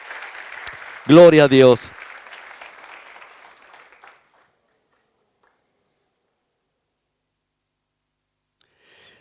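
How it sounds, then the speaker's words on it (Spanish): A church congregation applauds during a Sunday morning worship service, a dense burst of clapping under and around a preacher's voice that fades out after about four seconds, leaving near silence. "¿Cuántos le dan un aplauso al Señor Jesús en esta mañana de alabanza?"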